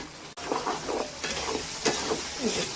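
Spice masala for pigeon curry frying in a pan, with a steady sizzle and repeated scraping stir strokes at close range and no voices.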